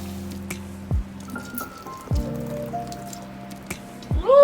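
Boiled water is poured into a foot soak basin for an at-home pedicure, giving soft wet splashes and drips, with a few distinct splats spread over several seconds.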